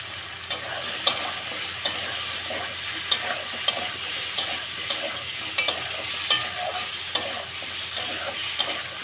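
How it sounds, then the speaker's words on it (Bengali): Taro pieces frying in a pan with chili and cumin, a constant close sizzle punctuated by sharp regular clicks of a utensil stirring and tapping against the pan. "লঙ্কা আর জিরে, এই কচুগুলো দিয়ে দিলাম।"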